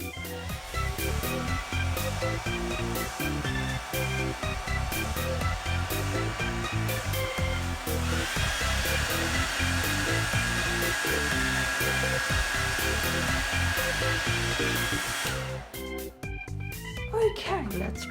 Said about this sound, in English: This time I will be trying this, but with a hairdryer instead.